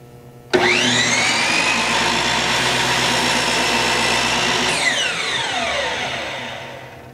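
A motorized miter saw whines up sharply as its blade cuts through a piece of wood, holding a loud steady drone for several seconds, then the motor switches off and the pitch falls away as the blade spins down to a stop.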